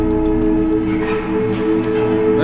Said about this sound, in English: That sounded like a train.